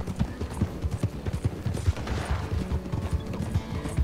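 A Norfolk Roadster horse gallops in Red Dead Online, with quick, loud, close hoofbeats drumming in a steady rhythm for the whole stretch.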